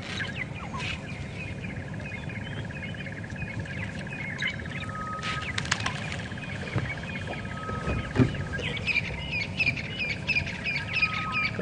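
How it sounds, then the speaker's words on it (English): Magpie shrike calling during a morning safari drive at Djuma Game Reserve, steady outdoor ambience with repeated bird calls and chirps, moderately near, with no talking. "Magpie, shrike that you can hear calling as well."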